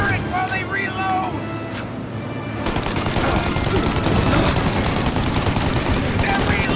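Heavy gunfire and turret shooting during a shootout in the video game Mafia, a dense, continuous barrage of shots and machine-gun bursts that swells louder partway through, mixed with shouted voices.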